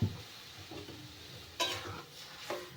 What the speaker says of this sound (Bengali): সুজিটা আমার ভাজা হয়ে গেছে এবার এর ভেতরে দিয়ে দেব আমি দুধ